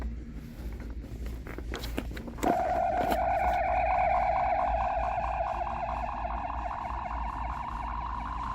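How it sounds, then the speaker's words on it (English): A classic Star Trek toy phaser's button sound effect: a few light clicks, then a loud, close electronic warbling whine that starts abruptly and holds steady, pulsing like a small siren until the end. "So you can press even the phaser button to make a noise."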